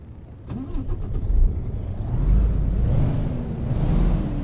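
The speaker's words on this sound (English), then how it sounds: "And start her up." A heavy diesel engine in a Kenworth T600 truck in American Truck Simulator cranks and catches, then settles into a steady low rumble that swells slightly as it revs, close and fairly loud.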